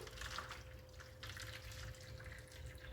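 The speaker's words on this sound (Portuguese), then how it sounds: "E eu vou colocar água quente aqui dentro dessa forma." Hot water is poured into a baking pan to make a water bath for a Castella cake, a quiet, steady trickling splash with uneven bursts, heard alone under a faint constant hum.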